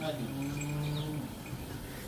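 A cow or calf on a dairy farm moos once, a low drawn-out call of about a second, faint and somewhat distant over steady background noise.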